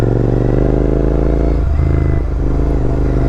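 A Royal Enfield GT650 motorcycle rides over beach sand, its twin-cylinder engine droning steadily up close with a deep, even throb and a couple of slight dips in revs.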